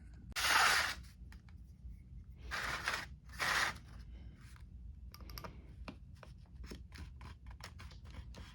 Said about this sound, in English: We'll start by cutting out the first parts we're going to use from the Vacuform sheet.